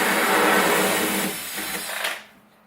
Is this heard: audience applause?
no